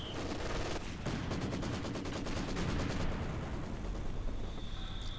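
An MG42 machine gun fires in rapid sustained bursts in the Company of Heroes 2 strategy game, a loud dense rattle with mortar and explosion rumble layered beneath, with no talking.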